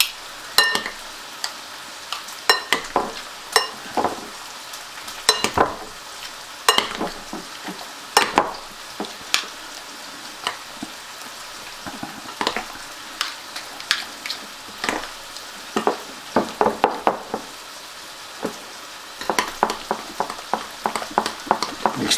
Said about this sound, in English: Gotta mix this up real good, guys